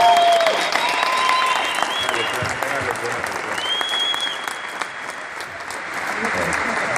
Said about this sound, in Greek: Δώστε ένα χειροκρότημα για τον εαυτό σας.